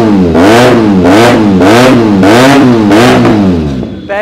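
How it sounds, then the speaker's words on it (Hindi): A 2017 Benelli 300 motorcycle engine is revved hard about six times in quick succession, each rev rising and falling loudly and close by before it settles to idle. "पहले तो आवाज सुनो आप बाइक की"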